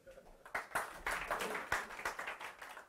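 Audience at a Go programming talk gives a brief burst of clapping, uneven and fairly faint, rising and fading over a few seconds in a room.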